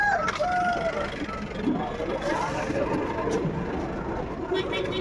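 Chickens cluck and a rooster crows at a busy night-time poultry market, the bird calls steady and fairly close beneath continuous bargaining voices.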